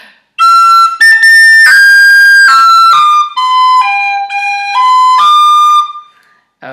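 A whistle plays the opening phrase of the B part of the Irish tune Scaip An Puiteach (Scatter The Mud), a lively run of distinct notes stepping up and down over several seconds, close and loud with no speech.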